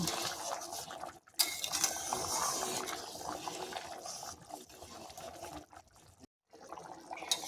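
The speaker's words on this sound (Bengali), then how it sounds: "এবার ঢাকা দেওয়ার থালাটা আমি তুলে নেব একটু নাড়াচাড়া করে দেবো" A cover plate is lifted off a pot of ghugni with potatoes and peas cooked in goat fat, then the contents are stirred, giving clinking metal scrapes and wet, sloshing stirring with brief pauses, close and fairly quiet.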